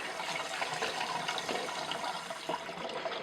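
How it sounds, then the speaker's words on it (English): Steady running cold tap water splashing and rushing into a sink while rinsing chickpeas, continuous and fairly close, with no talking. "So just rinsing under a little bit of cold water."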